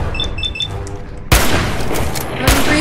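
Gunfire from the player's gun in the video game Fallout 4: a loud sharp shot bursts in after a quiet stretch of ambient game sound and chimes, followed by a second close shot near the end.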